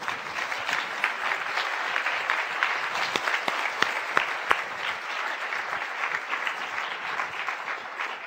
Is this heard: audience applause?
yes